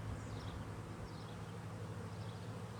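Honey bees buzz steadily around an open hive during a month-two inspection by a new beekeeper, a continuous low drone with no break and no talk.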